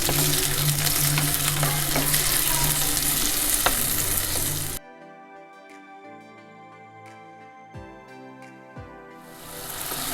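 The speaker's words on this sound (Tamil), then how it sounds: "இது நல்லா மேஷ் ஆகட்டும், தக்காளி நல்லா வதங்கணும்" Tomatoes and onions sauté in a pan for Tamil pepper curry, giving a loud continuous sizzle for about five seconds. It then cuts to quieter clinking and faint kitchen sounds, and the sizzle returns at the end.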